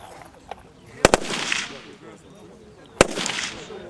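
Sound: automatic rifle gunfire

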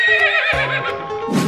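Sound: zebra call in a video game

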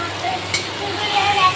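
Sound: paneer frying in hot oil

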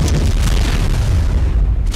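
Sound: missile launch explosion in video game ARK

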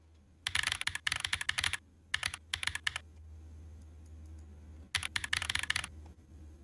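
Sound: "Tactical" keyboard typing sound theme in the video game Hydroneer

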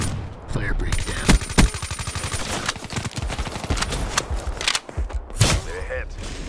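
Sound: weevil rifle gunfire with suppressor, from video game Black Ops 3

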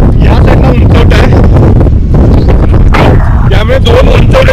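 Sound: strong wind blowing on a hilltop

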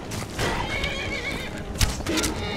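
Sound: horse neighing in video game Skyrim

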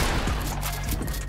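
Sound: gunshots in Fortnite video game

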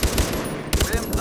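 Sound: gunfire in video game Far Cry 3

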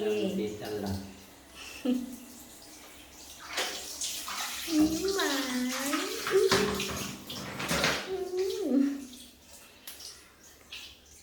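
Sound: running water while a father washes a baby's hair

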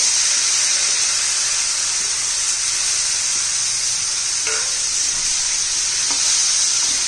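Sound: sautéing bottle gourd and dal in a pan

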